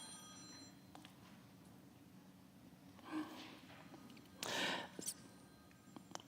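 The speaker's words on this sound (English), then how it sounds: "I can't believe I left my phone on." A mobile phone rings during a memorial service, a faint tone that chirps briefly in a hushed room, followed by a louder burst of rustling and breath close by.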